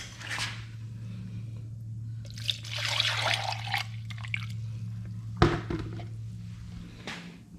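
Coolant poured into a motorcycle during a coolant flush, giving soft intermittent trickles and drips over a steady low hum, close and fairly quiet.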